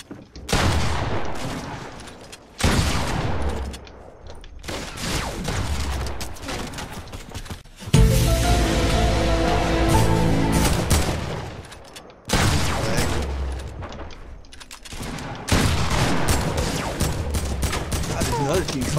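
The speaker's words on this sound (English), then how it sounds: "Another team firing at us" An enemy team fires in the Fortnite video game in repeated loud bursts of automatic gunfire broken by short gaps, one long sustained volley in the middle, with players speaking between shots.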